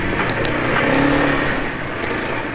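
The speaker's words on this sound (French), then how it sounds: "On lâche et un bon frein moteur quand même." A KYMCO MXU 300i quad with a CVT transmission engine-brakes after the throttle is released, a loud, close, steady engine drone with a gently falling tone, heard on its own.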